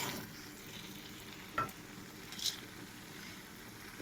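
Shrimp stirred and fried in a pan, a faint, soft sizzle broken by a couple of brief clinks and scrapes from the stirring, with no one talking.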